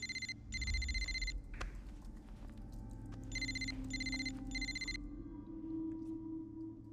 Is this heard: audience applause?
no